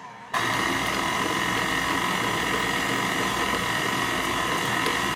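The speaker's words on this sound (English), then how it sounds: "you're going to be mixing everything together either by hand or with a mixer" Steady mechanical whirring and grinding of an electric mixer kneading German Brötchen bread roll dough, loud and close, starting abruptly and running continuously until it cuts off.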